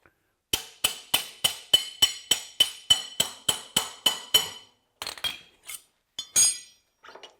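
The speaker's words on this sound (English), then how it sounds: "then we'll carefully tap our axle through" Metal-on-metal hammer taps driving a motorcycle axle out through the wheel hub during a tire change on a Harley-style bike with drum brakes: about fifteen sharp, evenly paced ringing clinks close up, then a few scattered, irregular knocks.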